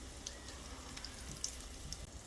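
Syrniki, cottage cheese pancakes, fry in a pan over medium heat with a faint, steady sizzle and a few tiny pops and crackles, quiet and close.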